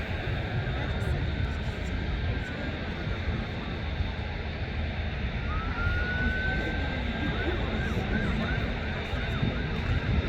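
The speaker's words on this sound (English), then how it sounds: "One taking off is a Singapore Airlines A350" A Singapore Airlines Airbus A350 taking off at Manchester Airport, its jet engines a continuous loud roar with a steady whine on top, heard from a distance.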